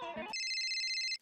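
A telephone rings with a steady electronic tone, close and clear, right after a brief burst of speech.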